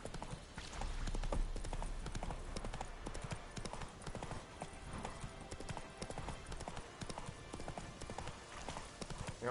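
Horse hooves clip-clop at a steady trotting rhythm in The Witcher 3: Wild Hunt, the game's galloping mount heard fairly close and continuous, with faint background ambience and no talking.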